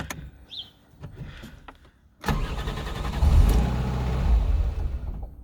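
A 2000 Ford Fiesta MK4 with a 1.3-litre 60 hp Endura engine cranks after a few faint clicks, catches loudly, and runs in a rough, unsteady idle that cannot hold and sags toward stalling.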